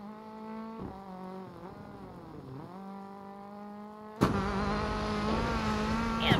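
A rally car engine in a DiRT 4 replay revs and shifts through gears, with the pitch rising and falling, then a sudden louder, harsher engine roar for the last couple of seconds.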